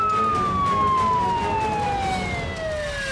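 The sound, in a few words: fire engine siren arriving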